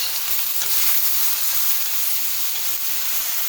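Steady, close sizzling of peppers sauteing in a hot pan for chili, a continuous crackling hiss with no talking.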